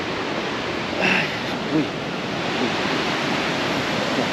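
A nature waterfall near a suspension bridge in Whistler, British Columbia pours with a steady, broad rushing roar, while a voice briefly exclaims over it.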